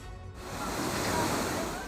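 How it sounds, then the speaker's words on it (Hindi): The flooded Gangro river in Saharanpur surges in a loud, close, continuous roar of rushing water that swells after a brief moment of lighter sound. "तबाही मचाने को बेताब गांगरो नदी"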